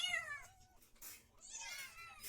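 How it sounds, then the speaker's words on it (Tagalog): Pet house cats meow a few times close by, high rising-falling calls with short gaps, amid faint background noise and a moment of low talk. "Ito yung aming mga cuties na pusa."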